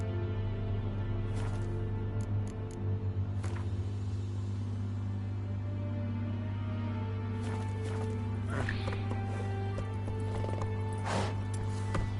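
A horse galloping in the video game The Witcher 3, its hooves clip-clopping in a steady rhythm over a constant low rumble, with occasional snorts and a brief whinny.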